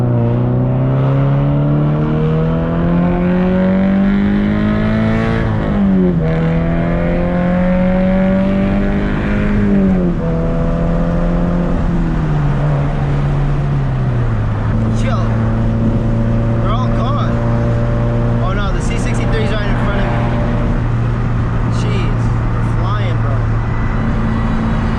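A turbocharged supercar cruising, its engine droning loudly and steadily with pitch rising and stepping down through shifts, heard from inside with people talking over it.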